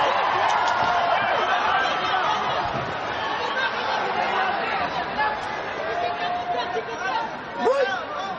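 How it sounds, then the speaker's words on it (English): A loud crowd murmurs and cheers at a featherweight title boxing match in an arena. The steady din of the packed venue builds under a commentator talking. "This crowd's getting loud."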